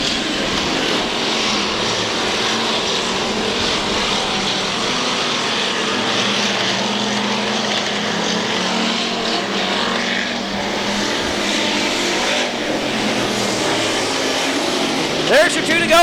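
Factory stock cars roar around a muddy dirt oval during a feature race, a steady loud engine drone filling the whole stretch with no break, under an announcer calling the laps.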